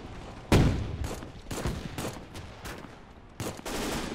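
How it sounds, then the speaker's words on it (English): Gunfire from enemy trenches in the WWII game Gates of Hell sounds as several distant bursts and scattered shots, one louder crack near the start, then intermittent volleys at moderate loudness. "Right now, we are taking some light fire from the trenches back here."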